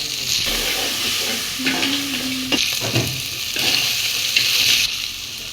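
Crab frying in a pan with ginger, cumin and chilli pastes and turmeric. A loud, steady, close sizzle and hiss fills the whole stretch, broken by occasional stirring scrapes, with no speech.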